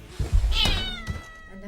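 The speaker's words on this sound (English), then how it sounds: "he accidentally knocks her cat out of the window" A cat meows in a Johnny English film scene, one loud drawn-out cry near the middle of a short comic moment, with low thumps before it and a brief fainter sound after.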